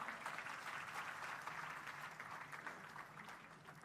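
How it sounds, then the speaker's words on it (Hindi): An audience claps together during a motivational talk, producing dense, steady applause that holds at an even level for a few seconds with no voices over it. "एक बार ताली बजाइए असुर के नाम पर"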